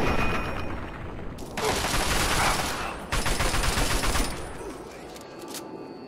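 Gunfire in Fallout 3 during a VATS attack, loud rapid bursts of automatic fire in several sustained stretches separated by brief pauses, close and dominant with no talking.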